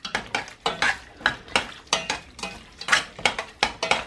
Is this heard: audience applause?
no